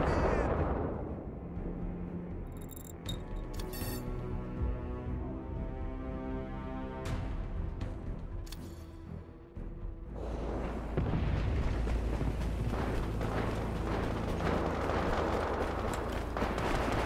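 Enemy airstrike explosions roll through a military shooter game, deep booms and rumbling blasts with a heavy continuous roar that swells louder partway through, near and powerful with no talk.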